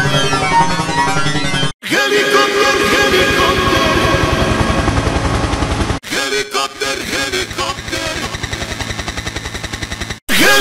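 A voice imitates a helicopter with loud, rapid chopping pulses, delivered in three bursts separated by brief silences.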